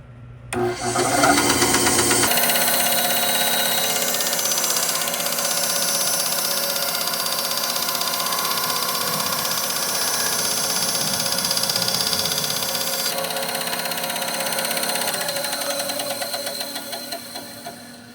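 Bandsaw spins up with a brief clatter, then runs in a steady loud whine and hum through a workpiece cut, with a slight shift midway and a fading rundown at the end.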